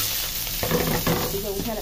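Boiled greens sizzle as they are tempered and stirred in hot oil in a pan, a loud, steady frying hiss with scraping stirs on top.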